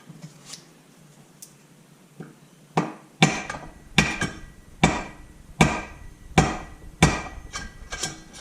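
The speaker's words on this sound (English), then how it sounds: "Notice that I used the wooden end of the hammer." A dull wooden tapping from the wooden end of a hammer repeats at a steady rhythm on a Honda CB125E engine's gearbox and crankshaft, about eight firm knocks close by, preceded by a few lighter taps and faint shuffling.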